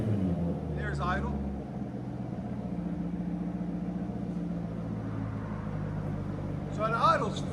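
A 2015 Corvette Stingray 6.2L V8 with straight pipes idles in a low, steady, fairly quiet burble close by, while people talk briefly at the start and end.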